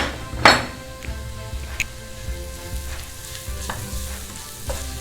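Ground fennel, coriander powder and garam masala sautéing in a pan for Bellary chicken: a soft sizzle with a sharp metallic clink of a utensil on the pan early on, then lighter scraping and stirring taps.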